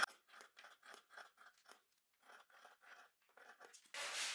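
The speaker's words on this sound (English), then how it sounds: "Then I take my scissors and I'm just going to cut some of that excess fabric off." Fabric scissors snip off excess dress fabric in a quick series of about a dozen crisp, close cuts, evenly spaced with a short pause midway, ending in a louder rustle.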